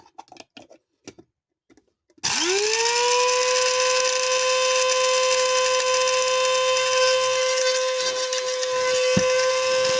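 An electric grinder whirs loudly as it grinds onions for homemade ketchup, starting abruptly after a few faint clicks and then running steadily and close at an even pitch.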